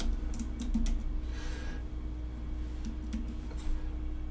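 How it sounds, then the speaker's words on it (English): Quiet typing on a computer keyboard, a few quick bursts of key clicks with short pauses between them, close by in a still room. "I'm gonna type deep tempo."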